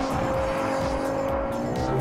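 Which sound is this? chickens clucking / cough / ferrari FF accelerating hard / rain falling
ferrari FF accelerating hard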